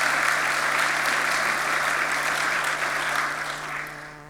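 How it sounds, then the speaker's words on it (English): Debate audience gives a speaker a round of applause, a broad even wash of clapping that holds steady and gradually tapers, with a faint low hum underneath. "Round of applause, Alex Riften"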